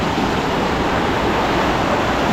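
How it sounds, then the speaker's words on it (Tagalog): Powerful water roars out of a dam at a fishing spot, a steady, loud, broadband rush that stays constant from start to finish with no voices over it. "Lakas po ng pressure niyan. Pag outbalance ka dyan, ay ang laki po, ang dami pong tubig na lumalabas oh."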